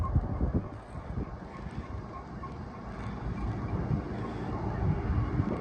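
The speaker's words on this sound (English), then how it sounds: "Looks like a Herzog ballast train, maybe." A Herzog ballast train rumbles past steadily on the Palmdale Cutoff, Mojave Subdivision, with low, rolling mechanical noise and rattling, mixed with wind across the microphone, at moderate volume.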